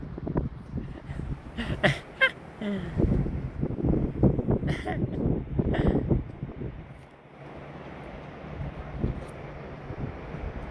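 Gusty wind rumbles and buffets the microphone throughout at the seaside in Dunkirk, with a few faint voices in the background.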